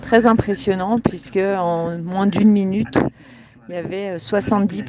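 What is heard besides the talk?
None of the usual background noises is heard.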